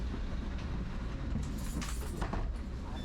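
BART train running, a steady broadband rumble and rail roar from inside the car with faint clatter, continuous throughout.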